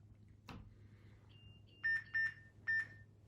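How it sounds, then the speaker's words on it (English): Three short, sharp electronic beeps at a steady pace, the second and third close together, from a nearby home security system keypad giving its entry-delay reminder to disarm, in an otherwise quiet room. "We're going to get a beeping to remind us to disarm the system."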